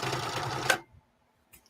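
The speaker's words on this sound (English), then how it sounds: "I can already tell this thing needs some sewing machine oil" A home sewing machine runs steadily for under a second in a sewing room, a dense mechanical whir that stops abruptly, followed by near silence and a faint brief tap.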